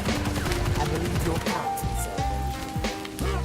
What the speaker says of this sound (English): Now add gunfire.